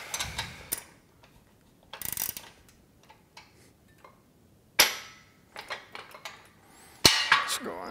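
Bolts on a Body Solid EXM3000 gym machine being tightened during assembly, giving short bursts of metallic ratcheting clicks separated by quiet gaps, close and fairly loud.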